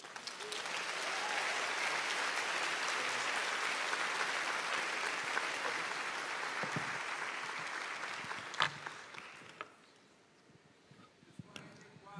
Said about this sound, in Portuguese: Mais palmas para ele.